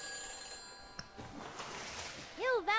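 A futuristic phone booth in a Back to the Future video game rings after a number is dialed: a short warbling electronic ring arrives at the end, after a synthetic voice talks.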